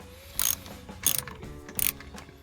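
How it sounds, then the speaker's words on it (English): A ratchet with a 13mm socket tightening the engine undertray bolts on a VW T5 van, three quick bursts of close, crisp clicking separated by short pauses, with no voices. "let's get the 13mm socket and just get all those 6 bolts nicely tightened up"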